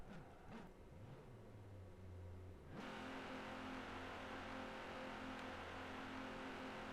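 Car engine in Forza Horizon 3 as the car moves in reverse, a steady whirring drone that jumps louder and higher partway through and then holds a sustained hum.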